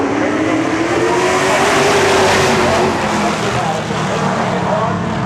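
Stock race cars roll up together at Seekonk Speedway on NASCAR opening day, a loud, close, sustained engine drone with a rising and falling pitch while an announcer talks over it.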